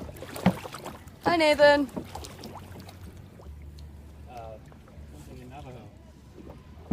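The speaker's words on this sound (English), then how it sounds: "we are canoeing away on the swampy river" A canoe glides along a swampy river at Disney's Fort Wilderness, with soft paddle strokes and water sounds running quietly beneath voices that greet someone and chat.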